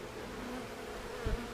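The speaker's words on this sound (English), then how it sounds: "these bees are pretty gentle" Honey bees buzz in a faint, continuous hum during a hive removal from a wall, a soft steady drone with a brief louder swell near the end.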